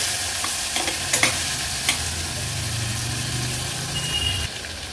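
Red pumpkin pieces with spice powder and finely chopped tomato are stirred in a hot pan. A steady close sizzle runs under scattered spoon scrapes and clinks, with no voices.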